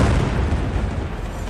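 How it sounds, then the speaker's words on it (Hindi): A bomb blast in Beirut during fighting between Israel and Hezbollah, heard as a loud, dense roar of rumbling boom and debris noise that fills the whole moment without letting up, with no voices. "बेरूत में यह धमाका तब हुआ"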